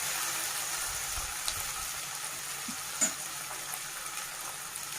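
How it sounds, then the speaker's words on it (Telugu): Ginger garlic paste frying in a pan for a tomato curry makes a soft, even sizzle that stays fairly quiet throughout, with a faint clink or two and no talking. "అల్లం వెల్లుల్లి పేస్ట్ పచ్చివాసన పోయినంత వరకు ఫ్రై చేసుకోవాలండి."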